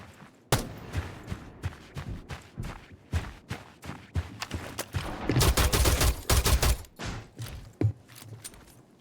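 A pistol fired at a barricade in a video game: sharp, close shots in an irregular rhythm, a brief dense volley of rapid fire near the middle, then scattered single shots, with footstep-like shuffling between.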